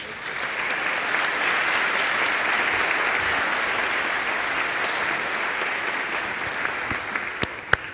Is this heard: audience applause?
yes